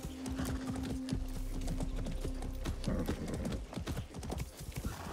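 Horse hooves clip-clop at a steady rhythm while riding in the video game Far Cry 6, loud and close, with a brief whinny and some game ambience mixed in.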